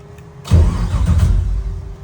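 A 1975 Toyota Land Cruiser FJ40 starts by push button with the clutch held in. A brief quiet lead-in gives way to a loud, close engine catch that settles straight into a rough, steady idle.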